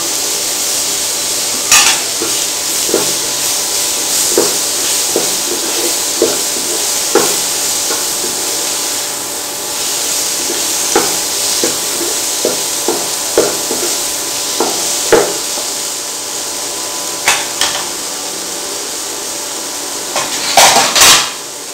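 Tomatoes and coriander sauté in a pan with a continuous loud sizzle, while a spoon stirs and scrapes against the metal in scattered clinks and taps throughout.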